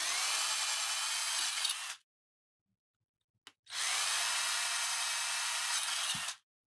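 A hand-held power drill boring holes in a project enclosure, two sustained whirring bursts of roughly two and three seconds each, separated by a silent gap with a brief click, close and steady.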